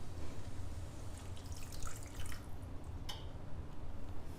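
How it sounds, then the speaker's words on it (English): Water is poured into a simmering pan while cooking, a steady watery patter and trickle with a few sharper drips, close and fairly quiet. "then we're gonna add about a 1/2 cup of water"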